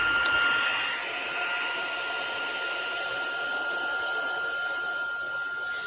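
Heat gun melting embossing powder on a card, a steady whirring blower hiss with a high whine, loudest at the start and then holding a constant level, with no talk.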